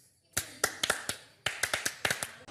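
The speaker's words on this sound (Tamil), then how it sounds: "அவன் யாரா உள்ள கை தட்டினவன்?" Sharp, close hand claps ring out in quick irregular bursts, about a dozen in all, grouped into short runs separated by brief pauses, with no talking over them.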